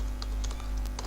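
Typing on a computer keyboard to enter a filename while setting up web development files, a brief run of soft, quick keystrokes close by over a steady background hum.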